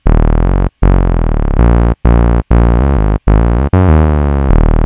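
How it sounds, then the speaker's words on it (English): Synth bass line programmed in Ableton, with portamento glides sliding between notes, loud and distorted, played in several phrases separated by short gaps, with no talking. "Let's go ahead and listen to this bass line in total now."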